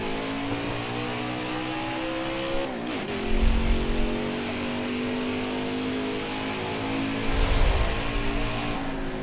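The engine of the number 8 NASCAR truck in the racing game NASCAR Heat 5 drones loudly and steadily at high revs, with pitch dips and rises as it shifts and accelerates through the run.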